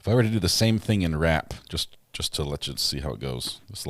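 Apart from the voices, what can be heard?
No everyday noise stands out behind the speech.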